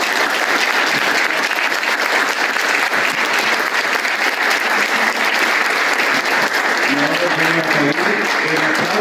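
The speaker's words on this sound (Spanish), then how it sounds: "Un fuerte aplauso." A large, loud audience applause rolls on steadily at a historical studies talk held at a radio station in Oberá, with a voice starting to speak near the end.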